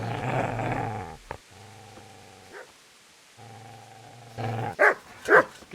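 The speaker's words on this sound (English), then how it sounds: "Get away, you mutt!" A dog in Kingdom Come: Deliverance growls low and steadily in two long rumbling stretches, then lets out a pair of sharp, loud barks near the end. The growls are close and sit alone, with no talk over them.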